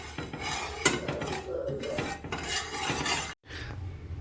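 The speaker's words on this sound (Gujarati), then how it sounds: "હવે આને હલાવી નાખીએ." Food being stirred in a pot on a home stove, with metal utensil scraping and clinking against the pan in a steady, close, moderately loud rhythm and a brief sharp knock partway through; no talking.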